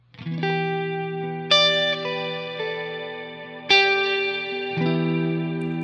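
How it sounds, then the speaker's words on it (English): Guitar through a Neunaber Immerse reverb pedal with the mix set at noon, played as sustained chords struck about four times, each ringing out with a moderate, smooth reverb wash sitting underneath the tone. "I would put the mix at noon instead of 3 o'clock to have my kind of not in the way reverb that just sits underneath your tone"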